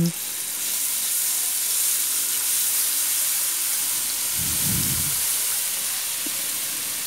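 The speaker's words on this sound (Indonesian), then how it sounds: "Jika sudah panas minyaknya dan masukkan bumbu halusnya, lalu tumis bumbu halusnya hingga harum." Ground spice paste sautés in hot oil in a pan, a steady soft sizzling hiss with a brief low bubbling burst partway through.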